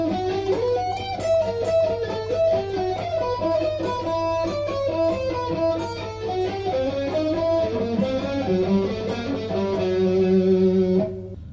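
On a six-string electric guitar, a passage from a song is played slowly and steadily, a continuous string of distorted melodic notes that is close and full, with no voice over it.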